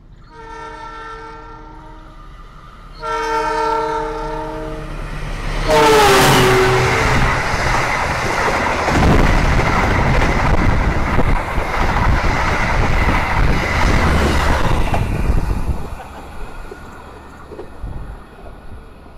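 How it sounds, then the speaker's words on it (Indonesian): The Taksaka express train roars past at high speed on an Indonesian main line, its horn sounding twice before a loud, sustained rush of wheels and carriages that fades away. "Itu dia barusan kereta api Taksaka, bener-bener ngebut banget ya."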